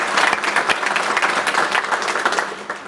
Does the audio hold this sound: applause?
yes